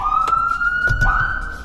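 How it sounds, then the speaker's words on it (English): A Whelen HHS3200 handheld horn siren holds one steady loud tone that rises slowly across the whole stretch, with low rumbling noise underneath. "All the customer needs to know in Slide Switch 3, they have a horn siren."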